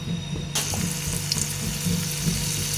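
Spice paste cooking in oil over a low flame in a village kitchen, sizzling steadily and close, with a soft continuous fry, faint clinks and a brighter burst of hiss partway through.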